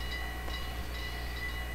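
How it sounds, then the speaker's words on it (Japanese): A Hokuriku Railway Ishikawa Line electric train with a nose-suspended traction motor running steadily nearby, a continuous low rumble with faint high whine and light rail clatter, no voices. "これは向こう剣の方からやってきた電車ですけれども"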